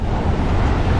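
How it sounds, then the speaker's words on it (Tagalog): Sea waves at a beach in La Union, a brief steady wash of surf mixed with wind rush, fairly loud and close, no voices. "naririnig ko ulit ang alon ng dagat"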